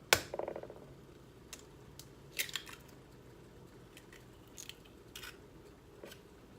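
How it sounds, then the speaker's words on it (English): Eggs cracked into a bowl: one sharp crack near the start, then scattered faint taps and small clicks against the bowl, quiet and alone. "So I'm just gonna crack my eggs here"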